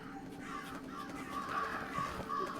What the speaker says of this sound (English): Fly away, crows.